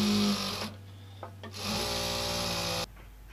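A sewing machine runs in two bursts of fast, steady stitching while sewing fine dori cord, with a short pause between runs before it stops.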